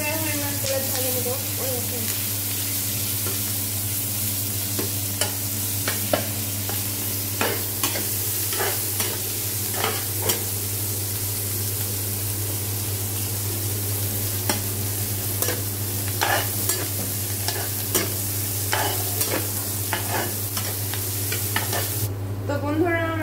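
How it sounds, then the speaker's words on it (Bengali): Garlic cloves, chopped ginger and onion frying in oil for a Bangladeshi rohu fish bharta, with a steady sizzle and repeated sharp stirring scrapes throughout, close and fairly loud; no talking. "এরকম সবগুলো আমি তেলে ভেজে নেব"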